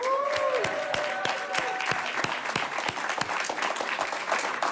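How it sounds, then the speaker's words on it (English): Audience applause at a Los Angeles Urban League event, steady clapping from a crowd lasting several seconds, close and fairly loud with no talk over it. "let's give them a round of applause"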